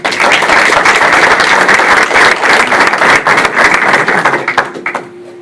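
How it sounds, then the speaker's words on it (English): Audience at a school district board of education meeting applauding for Jalen, with dense, loud clapping sustained for about five seconds before it quickly dies away. "give it a round of applause for Jalen"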